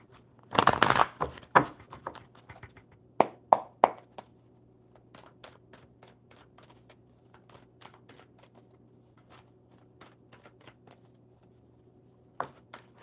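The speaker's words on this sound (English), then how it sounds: "All right, one more good shuffle." A deck of cards is shuffled close up: a loud riffle burst at the start, then scattered sharp card snaps and taps over a quiet steady hum.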